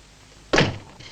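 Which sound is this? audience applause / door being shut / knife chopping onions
door being shut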